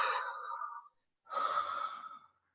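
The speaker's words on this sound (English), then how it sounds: "So breathe out through your mouth." Two slow, close breaths are pushed out through the mouth, each a soft airy exhale lasting most of a second, with a brief pause between them and no talking.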